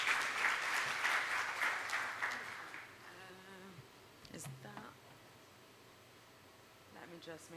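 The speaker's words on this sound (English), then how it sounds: "A round of applause for Rayya." Hotel summit audience applauds to welcome panel speaker Rayya, a short, fairly faint spatter of clapping that fades within three seconds, followed by quiet room noise and light handling sounds.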